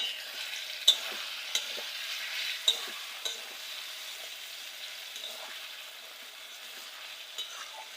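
Elephant foot yam stalks fry in a pan with a soft, continuous sizzle. Scattered clicks and scraping taps from stirring punctuate it, close by and with no talking.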